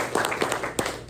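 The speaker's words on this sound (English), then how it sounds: "Let's give Will Stewart a round of applause." Audience at a press luncheon applauding a high school water polo player, a short burst of scattered hand claps with a few sharper individual claps standing out, fairly close.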